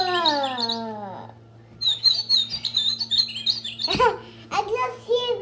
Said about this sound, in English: I'm going to play the painted bunting.